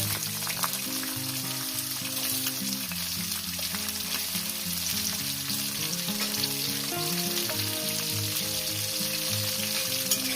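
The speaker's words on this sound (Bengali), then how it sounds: "ফোড়নটা কয়েক সেকেন্ড ভেজে নেব তেজপাতা দুটো দিলাম দিয়ে দেবো পেঁয়াজ দুটো" Onions and bay leaves sizzle steadily in hot oil in a pan, a dense, even crackle and hiss with occasional stirring, close up and with no talking.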